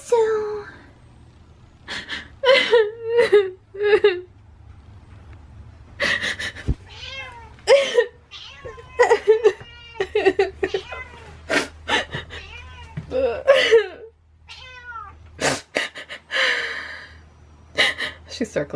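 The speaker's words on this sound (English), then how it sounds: "It's the most talkative cat I've ever had in my life." A very talkative cat meows repeatedly in short, varied calls and drawn-out cries close by, with quiet gaps between bursts and a low background hum.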